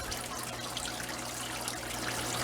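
Water drains steadily out of a 125-gallon aquarium tank, a continuous close trickling rush at moderate level with a low hum underneath and no voices.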